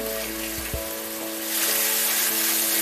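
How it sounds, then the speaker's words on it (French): Bacon cooking in a hot skillet on a stovetop gives off a steady, close sizzle with a few soft pops, growing slightly louder toward the end. "Alors, le bacon est en train de cuire."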